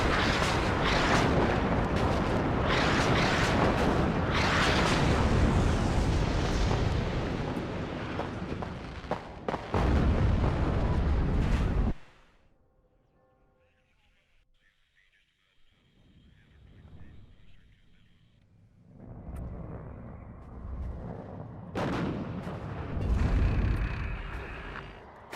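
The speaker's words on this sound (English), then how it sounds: "These rocket artillery strikes are brutal." Rocket artillery strikes in the WARNO war game: dense, loud barrages of rumbling explosions for about twelve seconds, then a lull with faint tones, before another heavy rumbling wave builds near the end.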